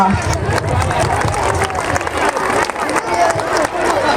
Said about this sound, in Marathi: माणसांच्या संख्येच्या गर्दीच्या मानाने या टाळ्यांचा आवाज खूपच कमी पडतोय